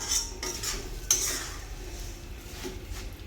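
Coconut and sesame seeds dry-roast in a turmeric-stained kadhai as a spoon repeatedly scrapes and stirs, giving soft clinks and rustling strokes at close range.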